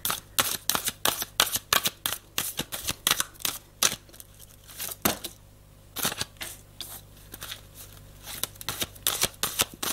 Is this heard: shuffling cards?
yes